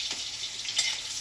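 Chillies fry in hot oil with curry leaves and cumin, giving a bright continuous crackling sizzle with short flare-ups as they are stirred.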